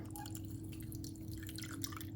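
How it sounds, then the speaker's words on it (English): A festive cocktail mixture is poured into a glass over ice, giving a soft, continuous liquid trickle with faint drips, close and quiet, with no voices. "Now I'm just going to put a little bit of ice in the glass."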